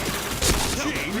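Gunfire in a video game comes as a short, sharp burst of shots mid-clip, with a voice speaking around it.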